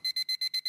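A bright, electronic alarm clock beeps six times in a quick, even pulse, close and clear with nothing else around it.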